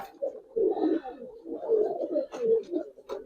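Giribaz pigeons cooing close by, a run of soft, low, throaty coos repeating in uneven bursts with short pauses.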